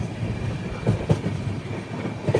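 Kirandul passenger train 58501 on the Visakhapatnam to Araku line rolls along the rails near Pendurthi with a steady, loud rumble and rhythmic wheel clacks over the joints.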